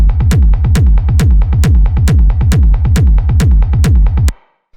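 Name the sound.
layered techno kick drum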